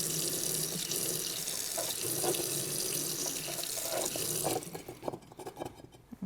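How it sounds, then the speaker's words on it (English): Tap water runs steadily into a sink as a glass is rinsed out, a close, continuous splashing that cuts off near the end, leaving a few drips and clinks. "I'm going to rinse this out."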